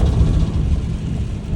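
Heavy rain roars steadily around a tow truck on the road, loud and close, with dense low rumble and no speech.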